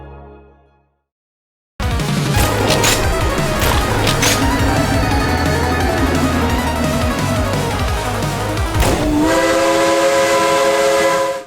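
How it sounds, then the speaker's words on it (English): Steam train in the Victorian VR zombie shooter Full Steam Undead: after a short quiet lead-in, a loud continuous rumble and clatter rolls on, and a sustained steam whistle sounds near the end. "One is crafting a VR diversion of zombies, steam trains, and Her Majesty Queen Victoria."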